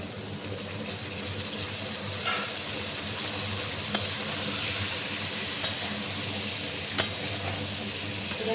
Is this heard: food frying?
yes